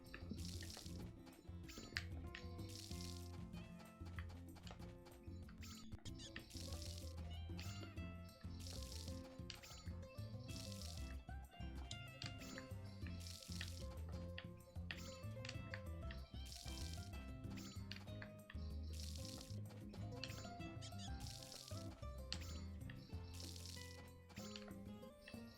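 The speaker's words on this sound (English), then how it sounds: "Let's finish watering the crops for today." Crops being watered in the farming video game Story of Seasons: A Wonderful Life: a run of regular, evenly spaced splashy water bursts repeats over continuous background music.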